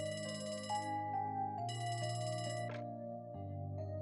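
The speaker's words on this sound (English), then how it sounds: "A phone call." A phone rings with a synthesized melodic tone for an incoming call in a Trails video game, the tune steady and clear over a soft musical background.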